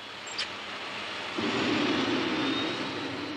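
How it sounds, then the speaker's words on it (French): A cartoon vehicle's turbine engine revs at full throttle, a continuous broad roar that swells louder and deeper partway through and holds steady. "Manette des gaz à fond maintenant."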